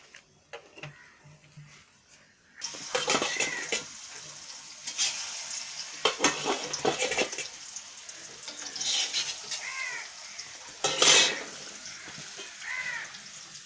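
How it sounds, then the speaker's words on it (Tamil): Chala fish (sardines) frying in a pan for a fish roast, with a steady broadband sizzle that starts abruptly and continues, broken by spatula scrapes and a sharp loud crackle burst; crows caw faintly in the background. "ஒரு பக்கம் மீன் குழம்பு, ஒரு பக்கம் மீன் பொரிச்சிட்ருக்கேன்."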